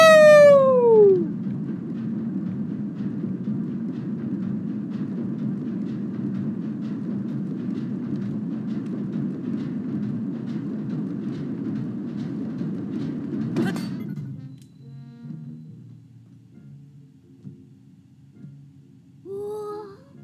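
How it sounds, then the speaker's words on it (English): Video game train in Zelda: Tears of the Kingdom rolling along with a steady low rumble for most of the stretch, a rising whistle-like tone at the start, then the rumble cuts out near the end, leaving faint quieter sounds. "Train time!"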